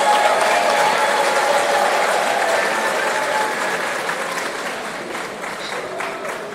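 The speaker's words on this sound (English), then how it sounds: "A round of applause for yourselves." Graduates at a university engineering college congregation ceremony applauding themselves, a dense, loud wash of clapping from a large crowd that slowly fades over several seconds.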